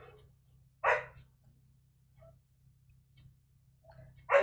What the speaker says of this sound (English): Oops, there was the dog.